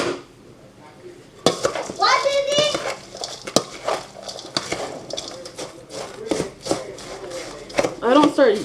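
A spoon clinks and scrapes around a bowl as salmon croquette mixture is stirred, in quick irregular knocks, with a child and an adult talking over much of it.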